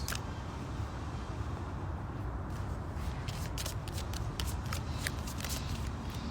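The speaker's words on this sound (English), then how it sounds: "One thing I don't like about shuffling like that" Tarot cards are shuffled close up in quick, papery bursts of riffling and slapping that repeat throughout, alone with no voices.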